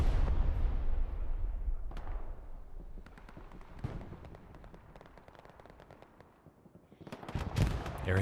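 Artillery fire in the World War II shooter Hell Let Loose, heavy booming detonations with rolling rumble and scattered sharp cracks of gunfire, some close and loud, others distant, with no talking.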